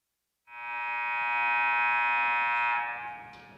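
A loud, steady electronic buzzer blares for about two and a half seconds at a high school girls basketball game, then fades out; no voices.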